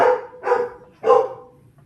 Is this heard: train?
no